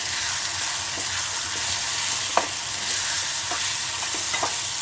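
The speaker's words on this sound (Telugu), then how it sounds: "పచ్చడి అంతా వేసి ఆయిల్లో బాగా మనం ఇలా కలుపుకోవాలి" Pounded mango chutney is stirred into hot oil in a pan, giving a continuous close sizzle with a few soft scraping clicks from the spoon, with no speech.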